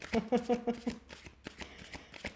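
Tarot cards riffle and flutter in quick bursts near the start, with a person talking throughout.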